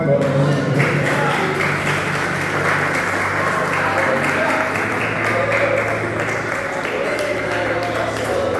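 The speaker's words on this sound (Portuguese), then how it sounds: "Dê uma salva de palmas para a glória de Deus." A church congregation breaks into steady, continuous applause, a dense even wash of clapping with voices mixed in and a low hum from the room underneath.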